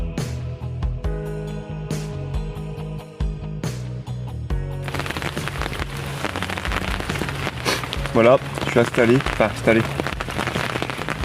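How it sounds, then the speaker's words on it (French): Heavy rain drums steadily and densely on a nearby surface, with someone speaking briefly over the constant patter. "Je me suis mis déjà au sec, parce qu'il pleut énormément"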